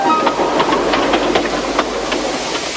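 A steam tank engine puffs rhythmically, a run of sharp chuffs over a steady loud hiss of steam, close by.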